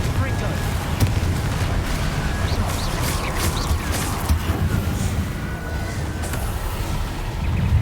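Confringo blasting spells in Hogwarts Legacy go off in a constant rumbling, crackling barrage of explosions, loud and close, with talk mixed in beneath.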